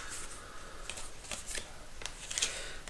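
Tarot cards are shuffled and slid across each other in short, soft riffling and flicking bursts, close and quiet, with a few crisp snaps as cards are drawn.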